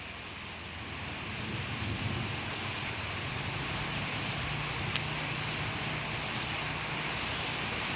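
Continuous rain hisses evenly at a moderate distance over a bamboo grove, a steady wash of noise with a faint low rumble underneath and no voices.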